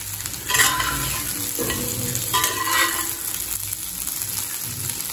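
Masala for tomato rice cooking in a pan over low heat, with steady close sizzling and scraping stirring strokes throughout, no voices.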